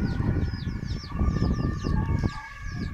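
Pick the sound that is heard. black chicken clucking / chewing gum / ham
black chicken clucking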